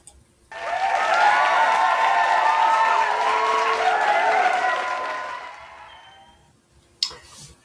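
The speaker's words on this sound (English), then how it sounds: "And the crowd goes wild." A large crowd cheers and applauds loudly as a podcast sound effect, a dense wash of clapping and whoops that swells quickly, holds steady for several seconds, then fades out, with a brief burst near the end.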